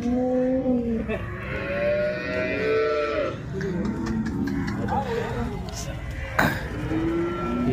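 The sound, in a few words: HF dairy cow mooing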